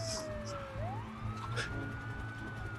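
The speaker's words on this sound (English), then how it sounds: "suddenly you hear the sound of sirens and panic and commotion in the street" Sirens wail and sweep in pitch along a city street, one rising tone over a busy low rumble of traffic and commotion, fairly distant and steady.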